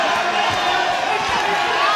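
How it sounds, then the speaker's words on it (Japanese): A crowd cheers at a professional boxing arena during a minimum-weight title rematch, a loud, continuous roar that fills the whole moment, with a commentator's voice under it. "重岡への声援が沸き起こっています。"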